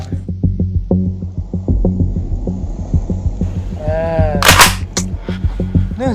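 A dummy gun goes off with one or two sharp, brief cracks near the middle, heard over a steady, throbbing, engine-like hum that runs throughout.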